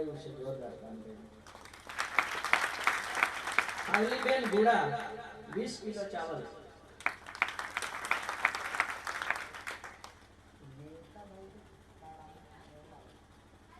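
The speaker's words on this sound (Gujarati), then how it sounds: "એમને તાળીઓ પડો એક વાર" An audience at a Gujarati devotional bhajan program breaks into two bursts of clapping, a few seconds each, with someone talking over a microphone before, between and after the applause.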